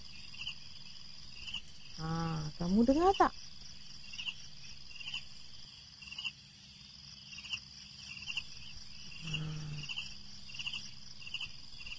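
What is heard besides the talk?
crickets chirping at night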